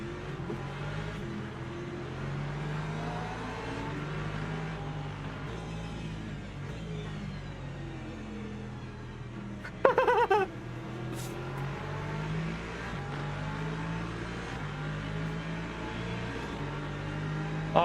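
LMP2 prototype race cars in the racing game Le Mans Ultimate, a steady layered engine drone with shifting pitches as cars run close, and a brief louder burst of passing noise midway, no talk.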